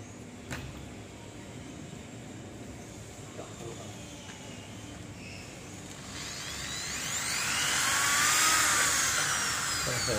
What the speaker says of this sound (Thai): ก็เจาะรูที่2นะครับ